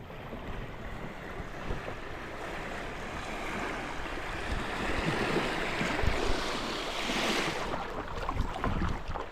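Rushing river rapids on the Hiwassee River during a rafting trip, a continuous broad wash of churning water close by with gusts of wind buffeting the microphone.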